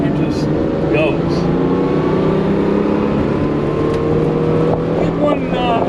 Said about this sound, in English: I just thought I'd give you guys a little ride in a pretty rare car.